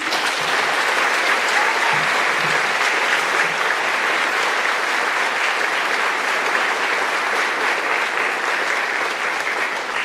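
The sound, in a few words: audience applause for a new Marine recruit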